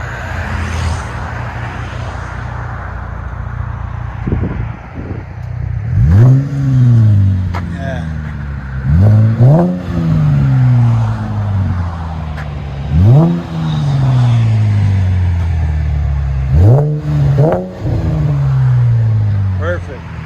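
A 2012 Cadillac CTS 3.6L V6 fitted with Vibrant Quiet Flow exhaust, idling steadily and then revved four times in short rising and falling bursts, loud and close with a clean, moderate tone.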